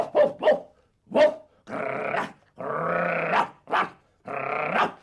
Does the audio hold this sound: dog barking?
yes